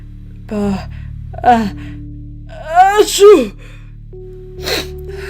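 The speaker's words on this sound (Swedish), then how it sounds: "Mitt i meningen nyser Storsnuff och börjar snörvla sig." A cartoon character sneezes partway through a sentence, a short sharp burst between spoken phrases, with a voice acting out the sneeze over a quiet music bed.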